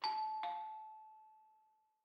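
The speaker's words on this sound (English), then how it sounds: "All of a sudden, the doorbell rang." A two-note ding-dong doorbell chime in a visual novel game rings once, clear and close, then fades out slowly over about two seconds with no other sound.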